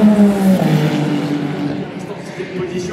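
Ferrari race car passing during Le Mans 24 Hours Hyperpole qualifying, its engine note loud and close at first and then fading, with a commentator talking over it.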